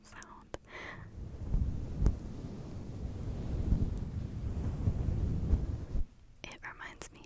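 A deep, rumbling roar from a microphone head being rubbed swells and fades like distant thunder, with soft whispery voices at the start and end.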